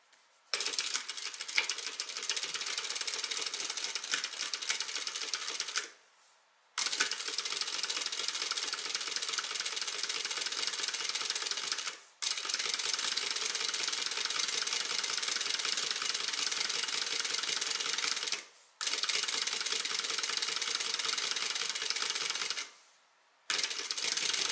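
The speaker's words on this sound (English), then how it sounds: "so we're going to go ahead and stitch." A sewing machine stitching a tote bag runs in long, steady bursts of rapid mechanical clatter, close and loud, separated by four short pauses.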